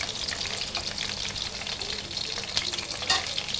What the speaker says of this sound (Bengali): তো আমি এই যে হালকা আঁচে ভেজে নিচ্ছি